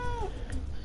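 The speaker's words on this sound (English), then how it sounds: "And you can hear my cat going off," A pet cat meows loudly and close by in one short, drawn-out call with a falling pitch, set against a steady low background hum.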